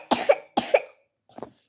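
A child coughs three times with a wet, phlegmy cough: two strong, close coughs in quick succession, then a softer, weaker one, with no talking.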